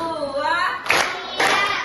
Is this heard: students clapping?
yes